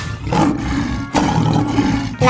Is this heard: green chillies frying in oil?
no